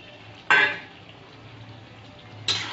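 A spoon stirs chicken curry in a metal pot, giving two sharp clanks against the side about two seconds apart, with a quiet stretch between them.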